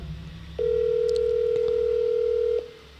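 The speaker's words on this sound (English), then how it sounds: "I'm calling him right now. Let's see if he answers. It's ringing." An outgoing phone call produces a single long ringback tone lasting about two seconds, clear and close, preceded and followed by quiet line hiss.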